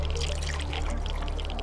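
Water pours steadily in the video game Wasteland 2, in the Lupe Mine, a continuous even splashing stream that holds the same moderate loudness throughout.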